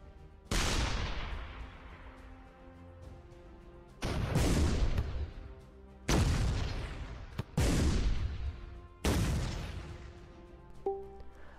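Tank shells firing and exploding in the video game Shell Shock Live, five loud, booming blasts spaced a couple of seconds apart, each with a long decaying rumble.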